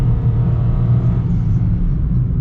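A 2022 Mitsubishi Mirage ES engine held at full throttle gives a steady, loud, droning rumble with a buzzy low hum, heard from inside the cabin with no talking.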